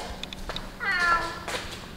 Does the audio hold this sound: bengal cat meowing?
yes